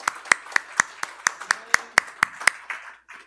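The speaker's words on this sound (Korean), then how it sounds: "우리 세 분에게 다시 한번 감사의 박수 드리겠습니다" A congregation at an Easter joint church service claps in a crisp, even rhythm, about a dozen sharp beats in quick succession before the clapping trails off.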